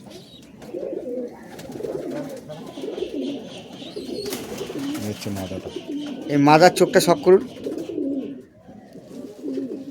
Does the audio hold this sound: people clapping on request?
no